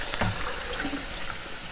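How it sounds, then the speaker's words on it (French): Tap water runs steadily from a faucet over collard greens being rinsed in a sink, a close continuous splashing stream. "je les fais passer sous l'eau du robinet comme ça"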